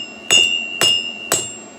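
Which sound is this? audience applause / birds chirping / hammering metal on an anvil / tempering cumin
hammering metal on an anvil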